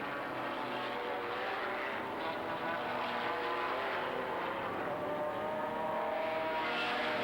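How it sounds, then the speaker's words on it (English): McLaren BMW GT race cars at full speed at Silverstone in a 1997 championship race, a dense continuous engine roar that swells slightly as they pass, heard at a distance. "Nannini is not going to be able to hold out the 2 McLaren BMWs for very much longer"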